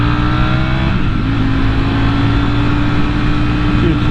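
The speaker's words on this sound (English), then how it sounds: "Beautiful day for a ride on a Harley." A Harley-Davidson motorcycle engine while riding on a mountain road, a loud, steady low rumble with droning tones, close up and continuous with no talking.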